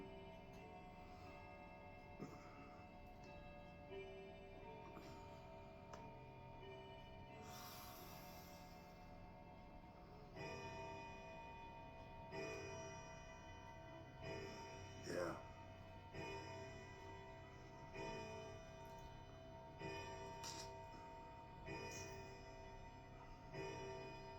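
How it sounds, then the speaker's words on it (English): Steady ticking of a grandfather clock with soft, even beats, heard in a quiet room with faint background noise and occasional small knocks. "love that clock. It's my grandfather clock."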